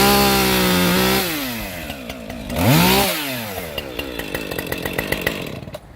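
A chainsaw cuts through wood, its engine whining and shifting pitch as the chain bites, rising and dipping through the cut and ending with a rattling idle and scattered crackles.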